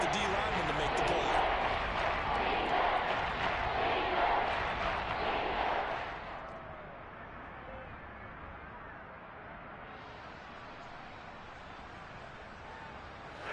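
Roaring crowd noise from Seahawks fans inside the stadium during a football game in the red zone on third down, loud and sustained for about six seconds before dropping to a lower background din.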